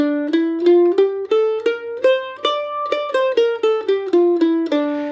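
A bright plucked mandolin plays single notes one after another, stepping up and then back down a D natural minor scale at a steady, moderate pace.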